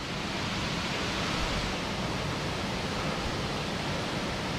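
Steady roar of Vibhuti Falls near Gokarna, a dense broadband rush of falling water heard close and continuous throughout, with no voices over it.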